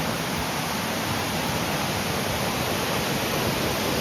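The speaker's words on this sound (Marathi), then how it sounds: "अगदी खळखळ असा हा धबधबा वाहताना आपल्याला दिसत आहे" A waterfall gushes near the Jogeshwari caves at Verul. Its steady, unbroken rush of water fills the whole clip at an even level, with no voices.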